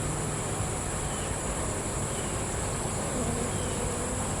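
Italian honey bees on a natural hive frame laden with nectar and honey give off a dense, steady buzzing drone at close range, continuous and without talk.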